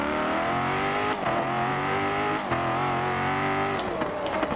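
The Aston Martin rally car in a racing game roars with a loud, continuous engine drone, its pitch rising and dipping through gear changes, close and without talk.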